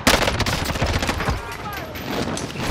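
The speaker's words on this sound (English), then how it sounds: "He's firing around." Enemy gunfire in a multiplayer shooter game, rapid automatic bursts rattling continuously at close range with a voice talking over it.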